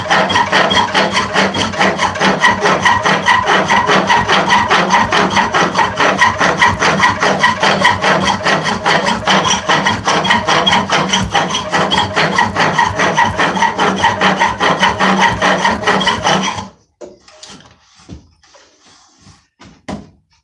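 A file rasps steadily across wood on a spring pole lathe, a loud, continuous rough grinding that runs for about seventeen seconds before stopping, followed by a few faint knocks and scrapes.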